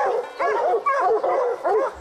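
Hunting hounds bay and yelp in rapid, overlapping bursts at a bear up a tree in thick woods, loud and close.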